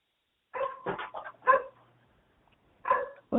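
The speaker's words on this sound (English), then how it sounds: "My golden doodle puppy that won't shut up." A goldendoodle puppy barks close by in sharp bursts, a quick volley of several yips and barks, a pause, then two more, loud and otherwise quiet.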